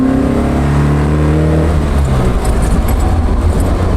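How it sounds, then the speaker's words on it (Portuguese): Loud, close exhaust of a muscle car revving, a deep throbbing rumble whose pitch climbs and then falls as the engine spins up and eases off, with no talking over it. "esse som do escape"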